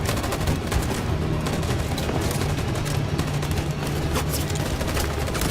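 Gunfire in the video game Detroit: Become Human, a dense, continuous volley of rapid shots with no pauses, fairly loud and alone throughout.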